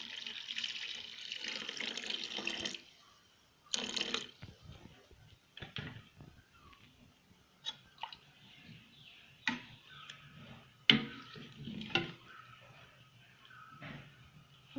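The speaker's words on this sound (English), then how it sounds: "Now I'm going to add milk" Milk poured into mashed rice porridge (kanji) makes a soft, intermittent liquid splash and trickle with scattered clinks, close up and fairly quiet, with no talking.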